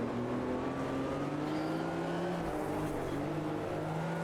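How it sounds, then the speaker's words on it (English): A historic race car in Automobilista 2 on the Nürburgring 24 Hours circuit, its engine on the overrun, a steady loud drone with gliding harmonics as it slows and pulls through a corner, no talking. "the sound of this car on the overrun is absolutely glorious"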